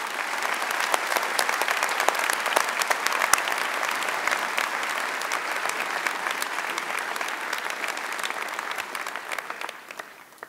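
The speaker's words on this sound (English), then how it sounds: "I think we all owe him an immense round of applause at this time" An audience at an evening dinner event gives a long, steady round of applause in honor of a departing leader. The dense clapping holds at an even level throughout and thins slightly toward the end.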